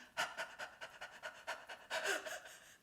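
A person imitates a happy puppy panting as a singing breath exercise, giving quick rhythmic breathy puffs in an even series over about three seconds, close and fairly soft, with no talking.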